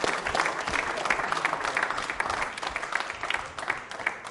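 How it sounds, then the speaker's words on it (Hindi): An audience at a quiz show on the Constitution of India applauds with a full, continuous wash of clapping that stays fairly level throughout. "क्या तालियां जोरों से बजाइए सर, जोर से"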